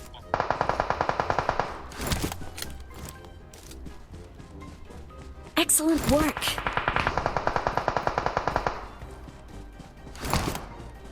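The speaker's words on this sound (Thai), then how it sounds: "ยิงรัวจังเลยนึกว่าค้าง" Rapid automatic gunfire in the PUBG Mobile video game, two long sustained bursts of fast rattling shots with heavier bangs in between, loud and close, while players talk over it.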